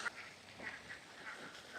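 A flock of ducks in Bali quacking in the morning, a busy overlapping chorus of nasal calls at moderate distance with no talk over them.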